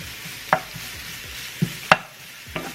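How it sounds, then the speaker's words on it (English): Shallots are caramelized in a pan over a soft, steady sizzle, with a few sharp clicks and scrapes as a utensil stirs them at irregular intervals. "we're gonna get them all nice and caramely"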